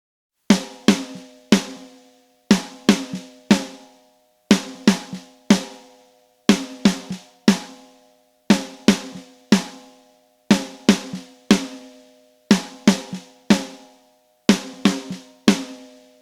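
A dry snare drum with the overhead and room channels muted is struck alone in a steady, repeating pattern: sharp, close, tight hits in quick pairs and clusters with very little ring or room decay.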